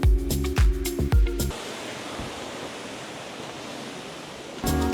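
Seven Beauties waterfall in Vandam village near Gabala, Azerbaijan, gives a steady, full rushing roar of falling water, with a few seconds of rhythmic music at the start and a brief return of music at the end.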